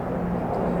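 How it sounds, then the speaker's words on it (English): A brief stretch of a military helicopter's low, steady rotor drone overhead by the Han River, continuous and fairly loud with no gaps. "Apologies for the helicopter."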